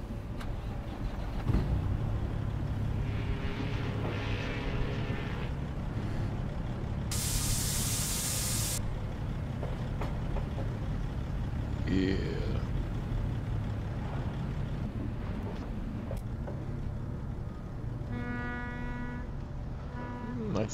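A Diamond Reo truck with a Cat C15 diesel engine runs with a steady low rumble, broken by a loud burst of air hiss partway through and a few short whines, with a voice speaking at times.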